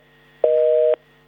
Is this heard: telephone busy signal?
yes